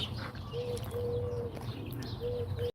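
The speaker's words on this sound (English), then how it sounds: "Got the doves making their beautiful sounds." Doves coo softly in a garden, a few drawn-out low calls repeating against steady outdoor background noise, with faint chirps from other birds.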